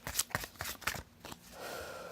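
A deck of playing cards is shuffled by hand, several quick riffling bursts close by followed by a softer settling rustle, with no talking.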